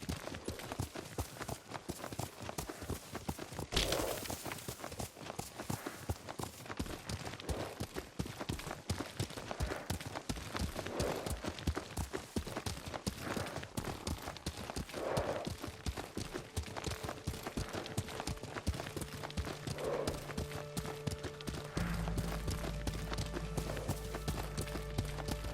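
Horse hooves in the video game Ghost of Tsushima, a fast, steady clip-clop of galloping on open ground under ambient game sound, continuous and fairly close, with a tonal music drone entering near the end.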